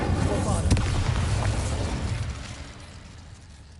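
A Bombarda spell blast in Hogwarts Legacy, a single loud booming explosion that peaks early and then decays with a rumbling tail over a few seconds.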